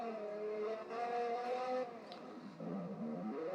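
A car engine in a Roblox repair game drones steadily and shifts pitch as it revs, a loud synthetic tone that dips briefly and then climbs again, heard alone.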